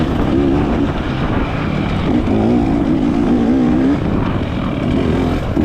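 Four-stroke 250 and 450 dirt bikes race through a harescramble, a loud, continuous engine drone with wavering revs holding steady throughout and no pauses.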